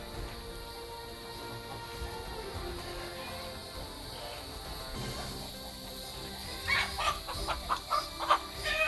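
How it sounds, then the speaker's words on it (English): Chickens cluck softly inside a goat house on a homestead, a few short louder bursts of clucking near the end over a low background hum. "has a chicken in the goat house"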